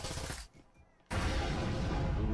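Frag grenades in the Breachers VR video game burst loudly, with a short quieter gap between two heavy blasts and the rumble carrying on after the second.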